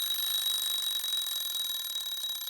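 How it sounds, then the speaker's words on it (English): A kitchen timer rings in a steady, continuous high-pitched electronic alarm tone that stays loud throughout, heard alone with no talking. "That's the kitchen timer."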